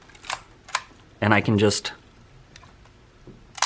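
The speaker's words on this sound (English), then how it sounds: "So now I have to advance the film a few times" A Nikon Nikkormat 35mm film camera is handled as its film lever is advanced and the shutter fires, giving sharp mechanical clicks and a brief ratcheting wind amid someone speaking.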